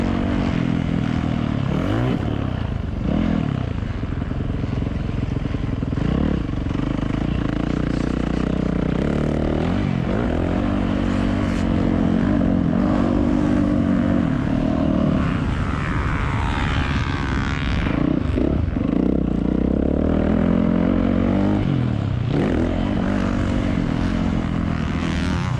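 A dirt bike rides a well-kept motocross track, its engine droning loud and close throughout with repeated rising and falling revs as the rider shifts through gears and throttles through corners, with no pauses.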